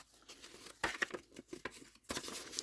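Thick coffee-dyed paper envelope crinkling and crunching up close in a few quick bursts separated by short pauses, dry and papery in a quiet room.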